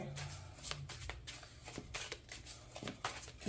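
Tarot cards are shuffled by hand in soft, quick riffling bursts, close but quiet, with a steady low hum in the background.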